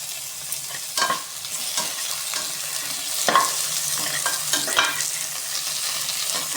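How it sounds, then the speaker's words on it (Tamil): Cashews and chopped tomato sautéing in a pan for mint rice, a steady sizzle with repeated scraping stir strokes from a spoon, close and fairly loud, no voices. "நல்லா வதக்கி விட்டுக்கணும்"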